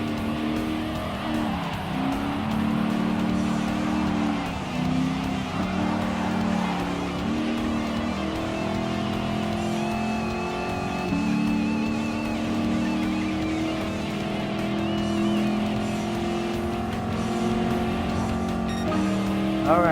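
A Ford Mustang's racing engine in the Gran Turismo Sport video game drones steadily for about twenty seconds, its pitch rising and dropping through gear changes, with faint tire squeal and other cars mixed in.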